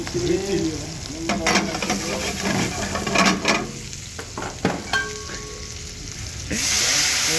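Garlic and green chilli frying in a pan for pasta, a loud close sizzle with stirring scrapes and occasional pan knocks, rising to a hiss near the end, with faint background voices.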